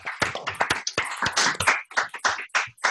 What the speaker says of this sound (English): you're allowed to unmute to applaud